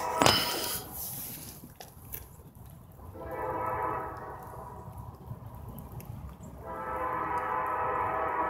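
Two railroad horns, a higher-pitched CSX horn and a lower-pitched NS horn, blare in long sustained blasts from some distance after a loud burst, one sounding and then the other joining again over a rumbling rail yard background.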